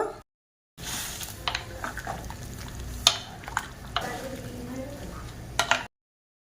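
Goat mutton goes into hot water in a pan and is stirred, giving a soft bubbling hiss broken by several sharp utensil scrapes and clanks, with brief silence before and after.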